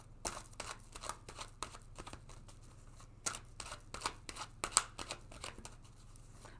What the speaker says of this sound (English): Let's take another card.